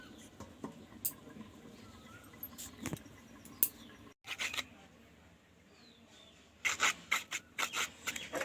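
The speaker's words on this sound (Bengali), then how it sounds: "পাও ঘষে ফাটা গুড়ালি, আর নখও কাটে, এই নখও ঘষে" A nail cutter with a built-in file rasps against fingernails in short, quiet scraping strokes, scattered at first and then a quicker run of rubbing bursts near the end, with no talk.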